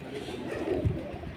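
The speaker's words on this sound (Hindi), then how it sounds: "पुराने कबूतरों में से है।" A soft, low pigeon coo murmurs briefly, close by, over a faint background hum.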